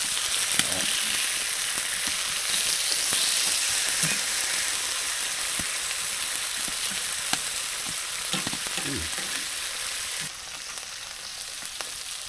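Seasoned steaks frying in a pan at a snowy winter hot tent campsite, a constant close sizzle with scattered pops and a few utensil scrapes, easing slightly toward the end.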